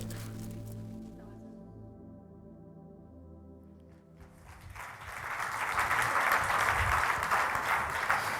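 Polite audience applause at a motivational talk, rising from a quiet tonal background about halfway through into a broad, moderate wash of clapping that continues to the end.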